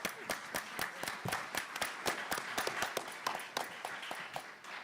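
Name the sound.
audience applause for the Senator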